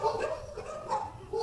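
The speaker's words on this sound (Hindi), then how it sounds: "कुत्ते बहुत भौंक रहे" Dogs bark outdoors in the distance, a fairly faint, continuous stretch of overlapping barks and yelps with no talk over them.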